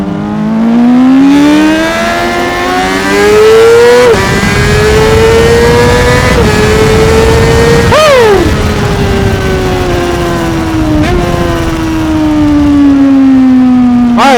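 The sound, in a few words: loud motorcycle exhaust, likely a Yamaha R6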